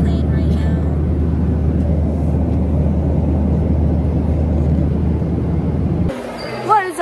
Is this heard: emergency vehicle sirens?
no